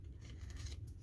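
Scissors snip and slide through tissue paper for a collage, a quick, faint, close cutting rasp lasting about a second.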